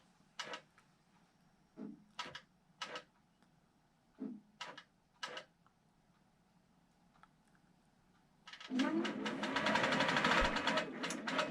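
A sewing machine stitches a quilt top in a few short separate bursts, then settles into one long, steady, loud run of stitching near the end. No one talks over it.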